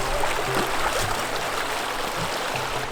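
A river stream near Moab flows with a steady broadband rush and gurgle, continuous and close, with no talking.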